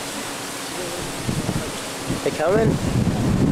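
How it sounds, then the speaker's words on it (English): Strong wind buffets the microphone outdoors in a continuous rough rumble that grows louder near the end, with a brief voice speaking underneath. "It's so freaking windy."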